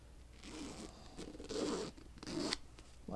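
A small zipper on a zippered cover of a Union King James Bible is pulled in three short raspy zips, close to the microphone and fairly quiet, with brief pauses between them.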